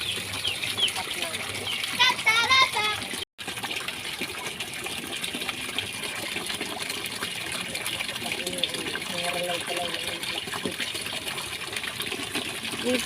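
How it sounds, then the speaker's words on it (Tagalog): Steady gushing water flows continuously throughout at a rural outdoor setting, with faint voices mixed in and a brief dropout early on. "Keep flowing water."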